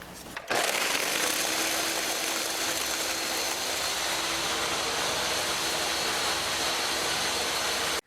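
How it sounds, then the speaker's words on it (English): A blender blending a thick vegan smoothie with ice and water starts up and runs at a steady, loud whirring roar for several seconds, churning continuously before cutting off at the end. "And then I'm just gonna blend it all up."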